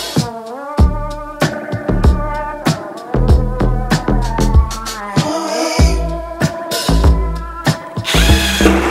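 A Bosch GDX 18V-200C cordless 18-volt impact wrench running in repeated loud bursts of rapid hammering rattle, starting and stopping with short gaps and whining motor tones between them.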